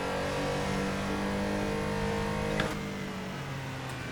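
A Porsche 911 Carrera RSR 3.0 with a naturally aspirated engine in the racing game Assetto Corsa revs steadily at high pitch, then eases off and drops lower near the end.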